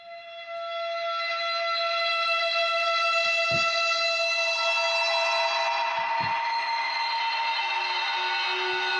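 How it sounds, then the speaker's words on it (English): A haunting, ethereal sprite scrape sound from the PRESAGE horror sample instrument swells into a sustained eerie tone with layered shimmering overtones, punctuated by a few faint low thuds. "And then our sprite scrapes, these are going to be a lot more kind of haunting,"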